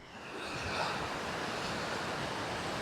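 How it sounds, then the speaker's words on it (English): Creek rapids rushing into the Gunnison River in the Black Canyon of the Gunnison, a steady, loud, broadband roar of fast water with no voices. "Got this little creek here that flows into the Gunnison River. That's some pretty decent rapids there."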